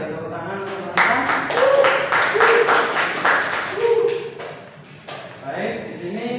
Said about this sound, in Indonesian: langsung saja beri tepuk tangan untuk peserta